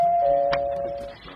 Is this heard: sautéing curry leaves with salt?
no